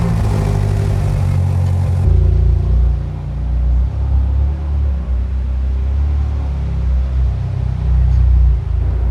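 A BMW M8 Gran Coupe on 19-inch wheels and winter tires pulls away with its engine running, a loud, steady low rumble that swells slightly as it drives off.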